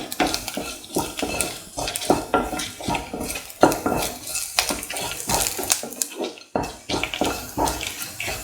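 A spoon stirs and sautés ingredients for a ginger potato stew in a pan, making repeated scraping and clinking strokes in an uneven rhythm, close and fairly loud.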